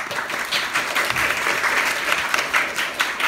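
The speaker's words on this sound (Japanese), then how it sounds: "皆さんにも拍手で" At a graduation live show, the audience claps in thanks: a full, continuous wash of many hands at fairly close range lasting a few seconds, with no voices over it.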